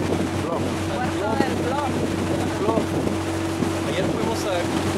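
A motorboat runs steadily between Bluefields and Bluff in Nicaragua, with a constant engine drone under heavy wind buffeting and water rush, and voices talking intermittently.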